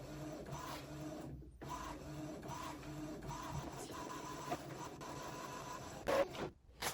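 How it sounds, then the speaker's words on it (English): An Epson EcoTank ET-2820 inkjet printer prints, its print head shuttling back and forth in repeated mechanical passes with brief pauses and a paper feed clatter near the end. "Okay, that's a very long printing."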